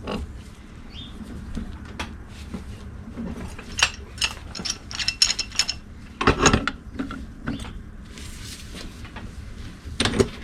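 A small steel pipe is unscrewed from a brass scrap valve, giving scattered metallic clinks, scrapes and short creaking twists at close range, irregular and without talk.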